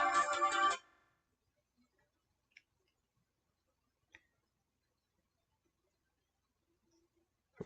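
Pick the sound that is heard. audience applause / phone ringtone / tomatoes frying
phone ringtone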